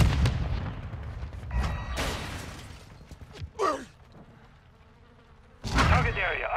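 Gunfire in Call of Duty: Modern Warfare II, several loud sharp bursts of shots spaced apart with quieter gaps between, with a whooshing sweep in the middle and a final heavy volley near the end.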